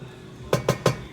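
Onions stirred in a pan, three quick metallic scraping knocks of a utensil against the pan in even succession, close and distinct after a brief quiet moment.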